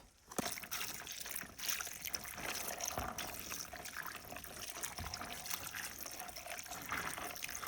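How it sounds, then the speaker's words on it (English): Tap water running steadily into a pitcher, filled to rinse hominy for pozole rojo in a home kitchen, a continuous close trickle and splash lasting throughout with no talking. "And then just fill up your pitcher of water so you can rinse it off."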